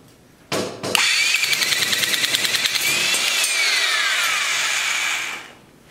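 A handheld 10 gauge nibbler bites through sheet metal in a rapid, rattling chatter after a sharp start, loud and close, running steadily for about five seconds before winding down.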